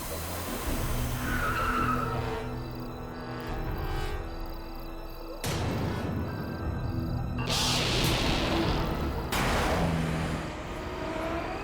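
A car brakes hard and its tyres skid and squeal to a stop on a road at night, loud and close, with engine noise and whooshing around it.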